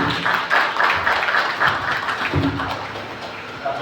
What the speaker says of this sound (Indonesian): Kita berikan tepuk tangan untuk Pak Yunus.